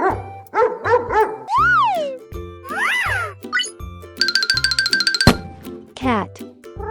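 Several barks and yips from a dog, mixed with jingly musical tones and bouncy sound effects in a playful, rhythmic sequence.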